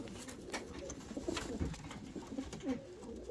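Several pigeons coo in repeated low, throaty phrases that overlap in a loose rhythm, close by, mixed with scattered clicks and rustles.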